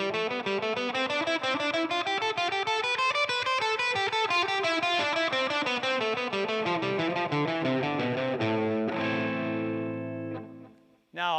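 Distorted electric guitar plays a slow three-note-per-string scale sequence, a continuous run of picked notes rising and falling, ending on a held ringing chord.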